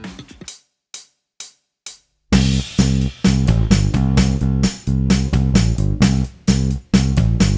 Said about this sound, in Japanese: ドの音から始まるフレーズを聞き取ってみてください。